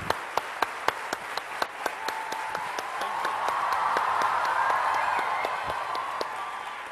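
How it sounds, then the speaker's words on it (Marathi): A standing audience at an event applauds with a dense, continuous patter of many hands, swelling in the middle and fading slightly near the end. Sharp periodic ticks run through it. "सर्वजण उभे राहून टाळ्या वाजवत आहेत."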